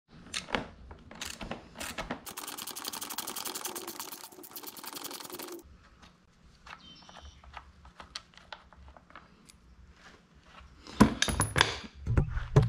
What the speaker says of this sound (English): let's go ahead and take these four bolts off